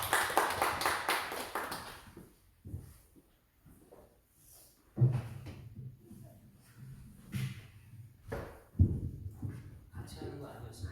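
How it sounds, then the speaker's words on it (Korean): Church congregation clapping hands together at a Holy Week early-morning prayer service: a dense burst of applause at the start, then scattered taps and thumps as someone talks. "박수 한번 칠까요?"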